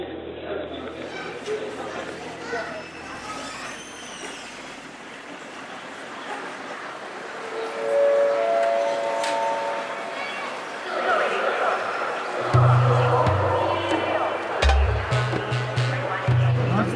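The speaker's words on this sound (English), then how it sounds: "We are at the Urumqi train station, about to try and get out of the city." Ambience at the Urumqi train station: a busy hall with crowd chatter, footsteps and announcement-like tones, and a low mechanical rumble near the end. People talk throughout.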